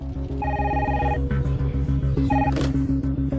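A telephone rings in a German-language radio play, two bursts of a bright electronic ring heard over a steady, loud musical bed with rhythmic low pulses.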